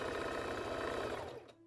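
A sewing machine stitches around a circle on a dress, giving a fast, even mechanical whir with rapid needle pulses that slows and stops near the end.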